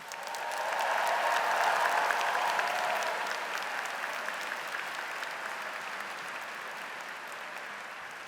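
Audience applause for engineering graduates at a university commencement ceremony: a dense, steady wash of many hands clapping that swells early, holds, then eases slightly while continuing to the end.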